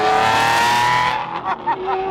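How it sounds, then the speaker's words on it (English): A Lamborghini LM002 off-road truck drives and accelerates, its engine note loud and close, climbing quickly through a short rev before dropping off in a couple of uneven pulses. "It feels so good to be driving the LM again. This thing is such a tank."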